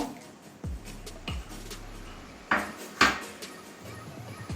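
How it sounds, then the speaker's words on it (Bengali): Metal lid set onto a cooking pot of jackfruit seeds boiling with salt: a few sharp, close clanks and scrapes with quiet pauses between them and no voices. "এবার একটা ঢাকনা দিয়ে ঢাকা দিয়ে দেব"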